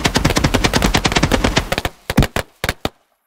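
Fireworks going off in the video game Fireworks Mania: a loud, rapid barrage of crackling blasts that thins into a few separate, sharp bangs before stopping.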